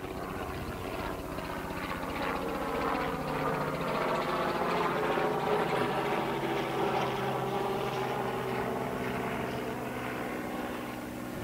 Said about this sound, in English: that's where this helicopter passes